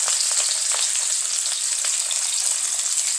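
Onions sizzling in hot oil in a pan for a meat curry, a steady dense crackle with occasional sharper pops, close and fairly loud, no voices.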